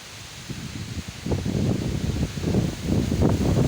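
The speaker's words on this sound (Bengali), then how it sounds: "আমাদের গ্রামে প্রচুর ঝড় হচ্ছে, আশপাশে কেউ নাই, আপনারা দেখছেন প্রচণ্ড বাতাস" Storm with strong wind and rain in a village: a continuous rushing roar of gusts and rustling that swells louder after the first second and stays heavy, with no voices.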